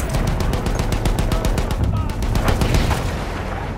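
Rapid, loud machine gun fire rattles continuously in Battlefield 1, close and steady throughout with a brief dip midway, over background battle noise and faint voices.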